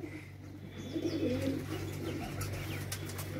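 Pigeons coo in a low, warbling call that swells and fades over a steady low hum, with a few faint clicks and no talking.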